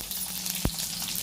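Cumin and mustard seeds fry in hot oil for a tempering, giving a steady close sizzle with one sharp pop near the middle.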